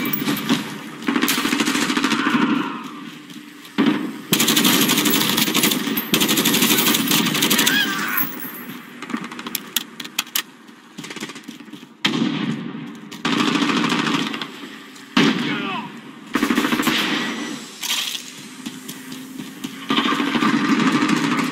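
Assault rifle gunfire in the video game Call of Duty MW comes in repeated loud automatic bursts separated by short pauses, chattering hard and close over about twenty seconds.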